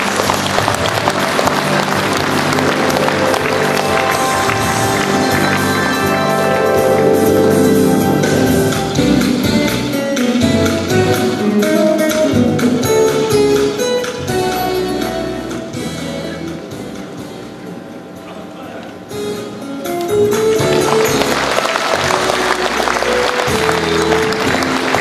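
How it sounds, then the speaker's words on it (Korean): Sustained audience applause welcoming a speaker at a Korean political party founding convention, loud and continuous throughout, dipping slightly before swelling again near the end, with music-like tonal elements mixed in. "여러분 큰 박수로 환영해 주시기 바랍니다."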